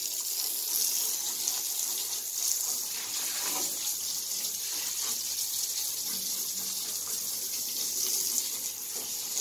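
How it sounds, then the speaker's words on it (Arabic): Water pours and splashes steadily at moderate volume for about nine seconds, a continuous running-water hiss in a domestic setting with no talk over it. "انت بتكب عليا ميه"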